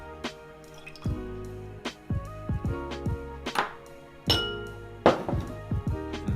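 Chinese five-spice simple syrup is poured into a grog cocktail, heard as close, sparse liquid drips and splashes mixed with several bright glass clinks, fairly quiet with no talk.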